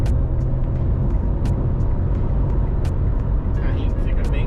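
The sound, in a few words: Citroën C3 Aircross engine accelerating in Sport mode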